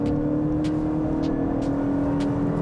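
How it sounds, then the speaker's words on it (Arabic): A 2019 Lexus ES with a CVT holds high engine revs under acceleration, giving a loud, steady, continuous drone heard from inside the cabin, with a few faint higher whooshes on top. "المحرك دائما دوراته عالية وصوت عالي، صوت عالي مستمر مستمر مستمر."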